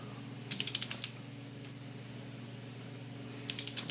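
A ratchet wrench tightens axle nuts on a Dana 60 axle conversion in two quick bursts of rapid clicking, a short run, a pause, then another, close and quiet with no talk.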